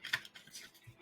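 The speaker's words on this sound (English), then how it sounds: "I'm just gonna shuffle a couple more times" Tarot cards are shuffled by hand in a few quick, soft riffling bursts close to the microphone, with no speech over them.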